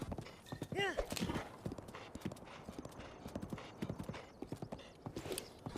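Steady clip-clop of horse hooves walking at an even rhythm in the video game Breath of the Wild, close by, with a brief whinny near the start.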